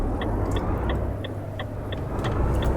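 A car engine rumbles low and steady at close range, a continuous idle-like drone with a faint regular ticking above it and no voices.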